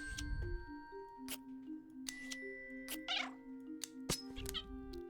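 Cartoon cat meows from the puzzle game A Little to the Left, a few short pitched mews scattered over soft game music chimes and tones, fairly close and clear with no talking.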